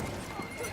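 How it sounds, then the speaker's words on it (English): A horse in the Battlefield 1 video game whinnies while its hooves clip-clop, a short, dense burst of game sound with a faint voice mixed into it. "There's a man on a horse."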